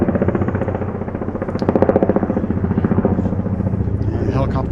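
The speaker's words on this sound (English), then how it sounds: "Helicopter flying over" A helicopter passes over a nature trail by a muddy creek, a loud, steady rotor chop with a pulsing low rumble that swells and fades slightly across the clip.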